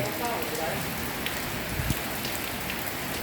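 Heavy rain falls steadily on a surface, a constant dense patter close by, with faint voices murmuring underneath.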